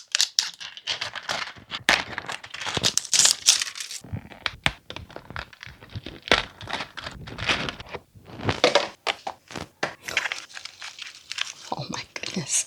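A packaged mini toy closet styled as a tiny treasure chest is torn and crinkled open, with close, busy rustling, tearing and plastic crunching, broken by short pauses and occasional handling thunks.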